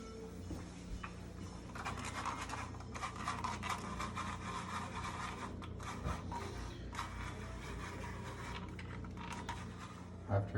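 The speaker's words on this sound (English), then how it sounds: "now we can grate a bit of Parmesan over the mozzarella." Parmesan cheese grated by hand over a layer of mozzarella on pizza bread, a steady close scraping and rasping that runs continuously with irregular strokes.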